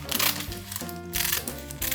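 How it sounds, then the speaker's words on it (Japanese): Scissors snip through a sheet of parchment cooking paper, giving a few close, crisp cutting bursts with crinkly paper rustle in between and no voices. "ハサミでカットします。"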